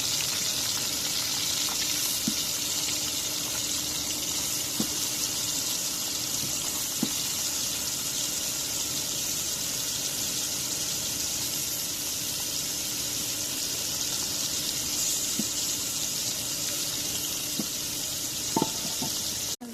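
Local koi fish fry lightly in oil, producing a continuous hissing, bubbling sizzle with faint scattered pops and clicks that runs steadily for the whole stretch.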